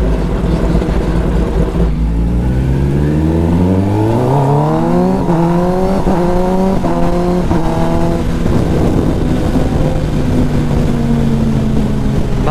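A Kawasaki ZX-10R sport bike engine revs up through rising exhaust tones and holds a smooth high pitch, loud and close throughout.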